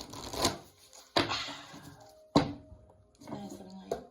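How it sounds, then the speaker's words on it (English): Tarot cards shuffled by hand in a quiet room, heard as several soft, separate riffling bursts with short pauses between them, close and gentle. "And listen to the shuffling."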